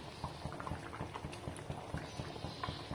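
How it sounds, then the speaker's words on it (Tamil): Prawn gravy boiling in a pot, a steady soft bubbling with small rhythmic pops, quiet and close with no voices. "நல்லா கொதிச்சு வந்துருச்சு"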